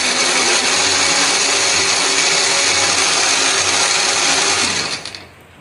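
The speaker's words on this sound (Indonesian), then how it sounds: "Di sini aku akan menghaluskannya menggunakan blender." A kitchen blender grinds a spice paste with peppercorns and a splash of water or oil, whirring loud and steady up close, then spinning down and stopping at the end.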